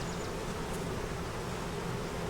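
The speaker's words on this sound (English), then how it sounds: "Little baby bees falling off and they hit the ground." Honey bees buzz at a busy honey-making hive, a dense, continuous, even drone close by with no voices.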